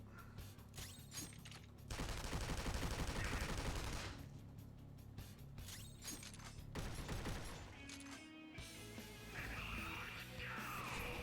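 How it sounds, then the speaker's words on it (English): Gun firing in the game Persona 5 Royal: a rapid burst of repeated shots rings out over busy battle music and effects, fairly loud and sustained for a couple of seconds amid the game's continuous mix. "Let's fire our gun on it."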